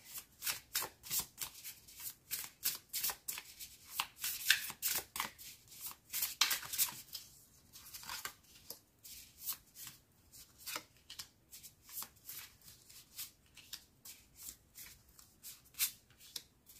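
A deck of cards being handled and shuffled, a card slid back into the pack, with quick papery riffles and flicks in uneven bursts, close and fairly soft, no speech.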